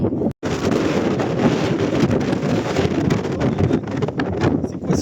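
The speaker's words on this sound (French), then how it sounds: "C'est quoi ce vent? C'est quoi ce vent?" Strong wind gusting past a hiker on a dirt track through vineyards, a loud, steady roar buffeting the microphone with one very brief dropout near the start.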